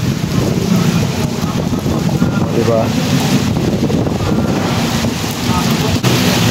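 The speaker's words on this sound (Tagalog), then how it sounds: "Ang lakas ng ulan, grabe" Strong wind and heavy rain roar outdoors near a flooding street, a dense continuous wash with buffeting against the microphone, loud throughout, with a voice speaking briefly over it.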